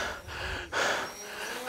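Heavy, laboured breaths from a hiker in thin air at 2,000 metres altitude, close to the mic: a sharp gasping inhale followed by long, strained exhales.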